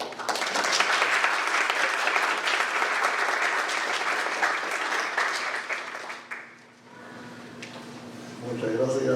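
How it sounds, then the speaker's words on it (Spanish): An audience at a Spanish-language lecture on the humanity of Christ breaks into loud, dense applause that holds steady for several seconds, then thins and fades out, with a brief quiet lull before some renewed noise near the end. "Un aplauso."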